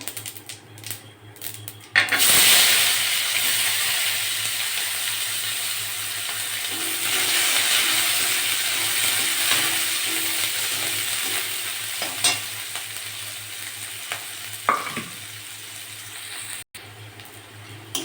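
Whole cumin, onions and green chilies fry in oil for a fish and potato curry, a loud, steady sizzle that swells after a clattering addition, with occasional utensil scrapes and taps over the long hiss.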